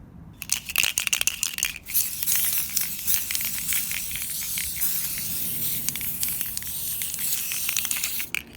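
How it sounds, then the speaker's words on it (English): Red hairspray from an aerosol can sprayed onto an airsoft gun, a steady close hiss with crackly texture lasting several seconds, with no talking. "by now you should have a nice coat of red hairspray on your gun."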